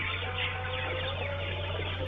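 Sonali chickens on a poultry farm at feeding time fill the space with a steady, dense murmur of clucking over a constant low mechanical hum, with no talk.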